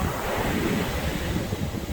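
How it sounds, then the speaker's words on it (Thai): Ocean waves wash onto a beach in a constant roaring hiss mixed with wind buffeting the microphone, loud and unbroken for the short stretch, with no voices. "จะไม่โดนคลื่นในทะเลซัดกลับลงไปในทะเลนะครับ"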